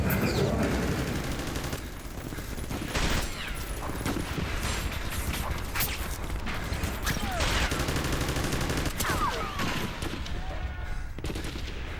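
Dense, continuous gunfire and heavy blasts from an Abrams tank battle in an Xbox war game, with rapid overlapping bursts and booming shots filling the whole stretch at a steady loud level.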